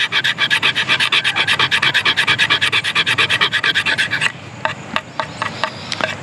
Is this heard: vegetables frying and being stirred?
no